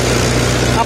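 A Mahindra 475 DI tractor engine drives a wheat thresher, giving a steady, loud, continuous low drone with a mechanical whir that holds even through the whole second.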